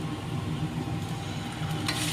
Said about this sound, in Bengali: পেঁয়াজের সঙ্গে আদা রসুন বাটাটা ভালোভাবে নাড়াচাড়া করছি